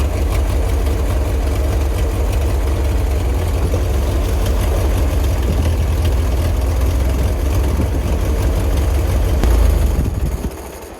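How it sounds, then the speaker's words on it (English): A plow truck engine idles loud and close with a heavy, steady rumble, its hydraulics low on oil and straining. The drone holds throughout, swells briefly, then drops near the end, with no talking. "The hydraulics do not sound happy."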